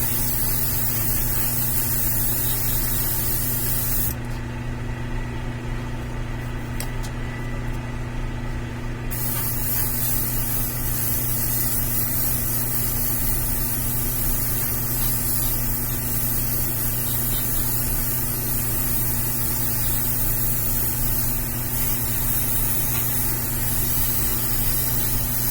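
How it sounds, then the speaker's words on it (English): Spray paint hisses in a steady, continuous stream onto the fur of a 1/4-scale beast prototype figure, close and loud over a background hum, with one brief pause early on. "So I'm spraying from this direction, looks good"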